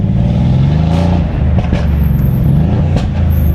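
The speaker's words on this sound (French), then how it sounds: "Ça fait vraiment des coups de fusil" A heavily modified Mercedes C63 S AMG idling and blipping lightly at low speed: a loud, close, deep engine rumble broken by several sharp exhaust pops and cracks.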